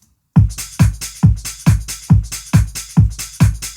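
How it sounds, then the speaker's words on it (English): Drum loop squashed through a stereo compressor and tape emulator, dense and punchy with heavy low thumps and bright top, eight evenly spaced hits in a steady groove, loud and unaccompanied by speech. "it's like squishing the drums together"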